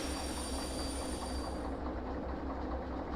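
A train in the Derail Valley railway game rolls along with loud broadband rail rumble and high squealing tones that cut out partway as it slows.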